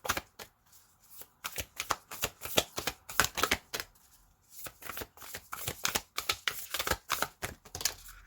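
Tarot cards being shuffled in repeated bursts of crisp riffling and flicking, close and fairly loud, with short pauses between shuffles and no talking.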